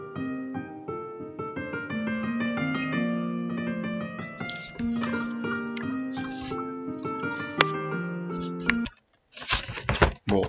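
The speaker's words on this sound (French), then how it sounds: "J'ai codé un son de piano" A recorded piano passage encoded at 16 bits plays a flowing run of melodic notes and chords at moderate volume, with a few extra noisy sounds and a brief pause near the end.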